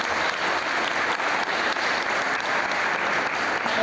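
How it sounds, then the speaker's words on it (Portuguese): A church congregation applauds during a service, a dense, continuous wash of clapping from many hands that fills the room evenly from start to finish. "Aplauda o Senhor em nome de Jesus."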